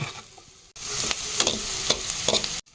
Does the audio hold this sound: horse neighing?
no